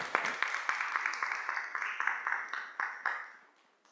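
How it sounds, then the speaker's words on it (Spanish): Forum audience applause, a scattered run of individual claps that starts fairly close and lively, then thins out and fades away near the end. "Un fuerte aplauso para ella, por favor."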